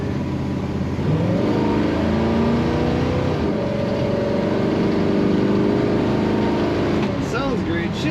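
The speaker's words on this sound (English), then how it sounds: "Let's get some throttle here." A 1955 Chevrolet 210 two-door post's engine revs up from a smooth idle, rising in pitch and holding high before easing back, loud and close with steady mechanical drone.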